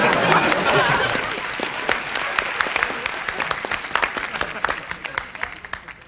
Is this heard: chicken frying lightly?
no